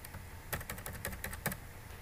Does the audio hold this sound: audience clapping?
no